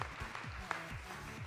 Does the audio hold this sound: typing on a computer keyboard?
no